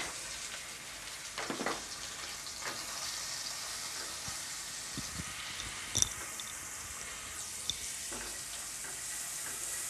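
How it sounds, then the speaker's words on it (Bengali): Garlic, ginger and cumin paste sizzles in hot oil in a pan, a steady frying hiss with a few brief clatters of stirring, close and fairly quiet, with no talking. "আমি অলরেডি তেল দিয়ে দিয়েছি এখন দিয়ে দিচ্ছি একটু রসুন পেস্ট আদা এবং কাঁচা জিরা পেস্ট"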